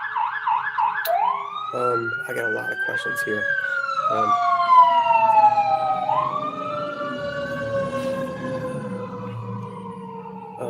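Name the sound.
ambulance siren passing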